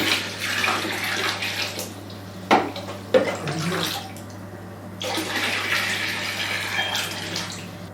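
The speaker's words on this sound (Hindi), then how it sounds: "एक बार फिर पानी डालेंगे।" Water is poured into a foot bath of hot water, a close splashing gush that pauses briefly with a couple of sharp knocks, then resumes as a steady flowing pour.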